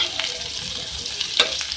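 Capsicum frying in a pan for a sandwich filling, a steady close sizzle with a few sharp crackles and spatters standing out over the continuous hiss.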